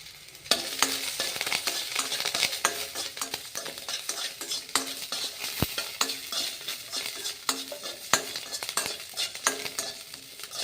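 Garlic cloves and curry leaves fry in a pan with a soft sizzle, under frequent scraping and clicking strokes from a stirring utensil. Nobody speaks.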